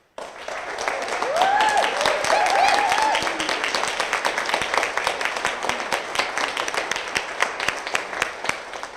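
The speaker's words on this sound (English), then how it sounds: "Another round of applause for our wonderful speakers" Applause from an audience for the speakers at a governor's healthcare bill signing, a steady crowd clapping that swells in the first seconds and holds at a moderate level throughout, with brief bird-like chirps early on.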